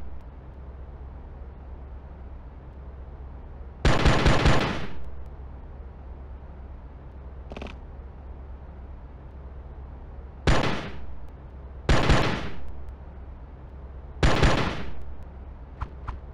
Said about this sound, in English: Now that you've fired all your ammunition, let's practice reloading the auto pistol.